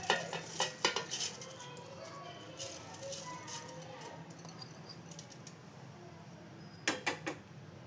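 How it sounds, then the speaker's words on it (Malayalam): Raw rice poured into a mixer grinder jar, a close rattle of grains with clinking taps in bursts at the start and again near the end, quieter patter between. "നമുക്ക് ആദ്യം പച്ചരി ഇട്ട് കൊടുക്കാം."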